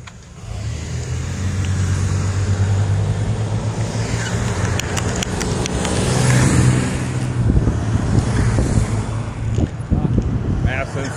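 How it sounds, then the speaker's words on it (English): Road traffic in Massillon, Ohio, heard from a bicycle: a steady rumble of cars passing nearby with engine hum and swelling pass-bys, plus wind buffeting the microphone and someone speaking briefly over it. "Traffic jam here."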